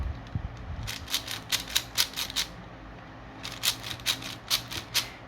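A 4x4 Rubik's cube being shuffled: two runs of quick, crisp plastic clicks and clacks, close and fairly quiet, with a pause between them and no talking.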